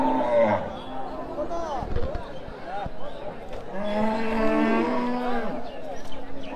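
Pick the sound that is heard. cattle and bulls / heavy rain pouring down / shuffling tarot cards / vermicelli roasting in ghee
cattle and bulls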